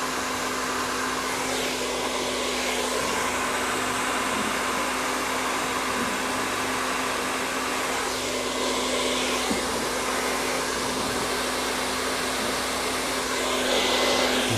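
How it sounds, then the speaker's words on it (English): A hair dryer blows steadily while styling a woman's hair without a flat iron, a continuous close airy roar with a faint motor hum that holds for the whole stretch, with no talk over it. "I'm not gonna need a flat iron for her hair because I'm blow drying it correctly"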